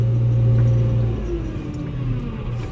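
A JCB 540-140 telehandler drives sideways in crab steering, its engine giving a steady, fairly loud mid-range drone with a strong low hum that eases slightly partway through.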